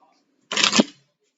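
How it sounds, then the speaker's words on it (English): A quick riffle of tarot cards being shuffled, one short papery burst of about half a second, close and crisp in an otherwise quiet room. "Get another shuffle."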